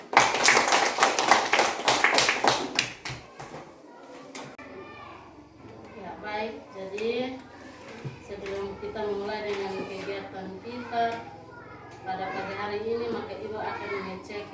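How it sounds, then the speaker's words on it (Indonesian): A group of children in a school classroom clap their hands in a quick burst of rhythmic claps at the start, followed by children's voices and talk. "Kita berikan tepuk tangan kepada Dewa."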